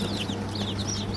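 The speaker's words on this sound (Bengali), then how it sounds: "আপনারা স্ক্রিনের ভিতরে যে বাচ্চাগুলো দেখতে পাচ্ছেন, এগুলা অরিজিনাল দেশি মুরগির বাচ্চা" Native desi chicken chicks at a farm in Ghatail, Tangail, chirp in a steady scatter of thin, high peeps over a low background hum, with no voices.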